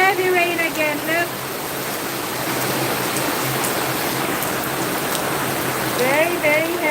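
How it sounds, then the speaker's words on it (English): Heavy rain pouring down in the Philippines, a loud, dense, continuous hiss of water, with a voice speaking briefly at the start and again near the end. "It is heavy rain again."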